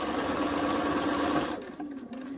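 A sewing machine stitches a quilting seam in a fast, even whir close by, then stops abruptly, leaving a few soft handling sounds.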